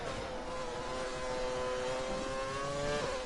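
Silver McLaren race car engine in a GTA video game revving steadily with a loud, buzzing harmonic drone that climbs slightly, continuous and close with no speech.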